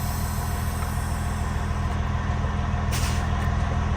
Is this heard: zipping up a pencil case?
no